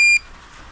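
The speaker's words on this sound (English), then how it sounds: "So double click, one beep, Bluetooth is off" A JK-BMS battery management system display gives a single short, high electronic beep after its button is double-clicked, loud and close, followed by quiet room tone.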